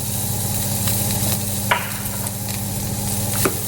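Pork chop searing in an oiled pan indoors, a steady close sizzle and hiss of frying with a few faint clicks and scrapes, no talking.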